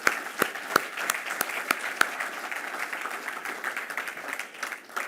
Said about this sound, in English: give the sponsors, large and small, bright and dull, a big round of applause